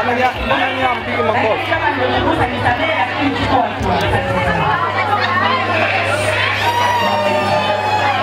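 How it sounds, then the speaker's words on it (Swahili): A hall crowd at a baby-welcoming celebration breaks into clapping and high trilling ululation, loud and close, with shouts and voices chattering throughout. "Makofi na vigelegele kwa Bwana."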